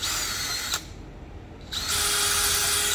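A power drill bores holes for mounting a turner plate, a loud, steady high-pitched whine that drops away briefly in the middle before spinning back up at full speed, close to the listener with no speech.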